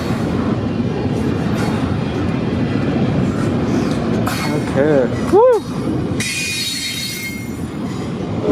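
A potash freight train rolls past at a rail junction, a loud continuous rumble of railcars with squealing wheels rising and falling over several seconds, close to the listener, while a person briefly speaks and cheers.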